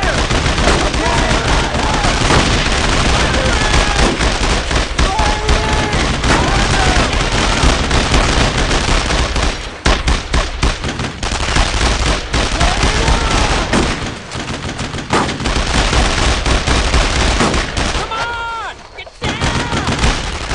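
Relentless World War II gunfire in the video game Brothers in Arms: Road to Hill 30 on Purple Heart Lane, with rifle and machine-gun bursts, heavy blasts and shouting soldiers packed together, loud and near, easing briefly near the end.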